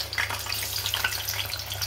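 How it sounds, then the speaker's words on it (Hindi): Potato tikki frying in oil in a pan, a steady close sizzle with crackling that runs unbroken and fairly loud, with a low hum underneath. "अब मैं जो टिक्की है फ्राई होने रख देती हूँ।"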